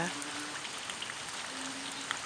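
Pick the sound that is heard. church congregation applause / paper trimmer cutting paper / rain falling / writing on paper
rain falling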